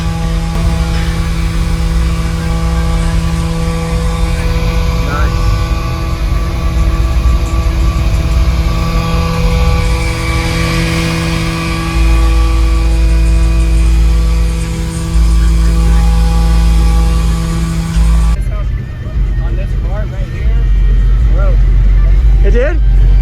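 A car subwoofer in a box tuned very low drones a steady, loud deep bass tone near 20 Hz, with hum and rattle throughout and a voice talking briefly.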